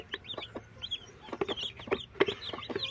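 Broody hens clucking close by in a shared nest, a string of short, quick clucks and murmurs in an uneven rhythm, fairly quiet, with no talking.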